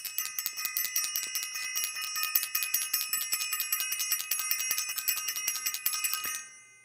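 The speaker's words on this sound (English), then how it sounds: "I want to ring the bell for Self-Invested and everyone in the Self-Invested workshop." A small hand bell rung rapidly and continuously for several seconds, bright repeated metallic strikes close by, then fading out at the end.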